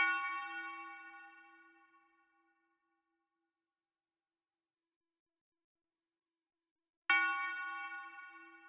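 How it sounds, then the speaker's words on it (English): A resonant bell tone in a trap beat made in FL Studio rings out and decays slowly into silence, then the same bell note strikes again several seconds later, clean and electronic-sounding. "for the melody, we're using a bell repeating on every 4 bar"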